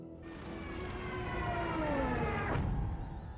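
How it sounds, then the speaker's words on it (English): A wailing Stuka dive bomber siren with a descending pitch builds in loudness over a low rumbling background. "as the Stuka gets louder and its siren closer"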